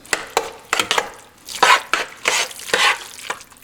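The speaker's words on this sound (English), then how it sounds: "Now, we're going to stir all this together." A meat mixture for stuffed bell peppers is stirred in a pan, with loud, close, rhythmic scraping strokes and soft wet sizzling between them.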